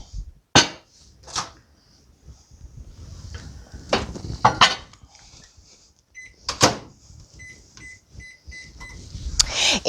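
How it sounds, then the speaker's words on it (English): Microwave door thuds and clatter, then a quick series of keypad beeps as the oven is set and started. "I'm going to put it in the microwave for 8 minutes"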